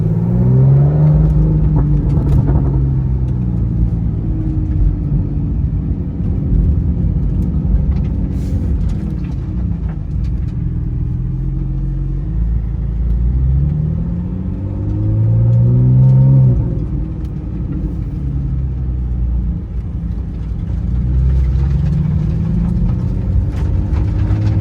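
A Porsche laps a race circuit on a reconnaissance run, its engine loud and close, revving up and easing off in repeated rising and falling sweeps with no talking.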